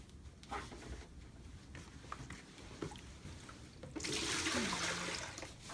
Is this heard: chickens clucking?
no